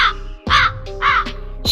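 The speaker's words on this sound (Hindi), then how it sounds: "शिवा जो कौवा बना है वह भी उड़ते हुए वहाँ से चला जाता है।" A cartoon crow caws three or four times in harsh, loud bursts over a continuous musical background, close and prominent.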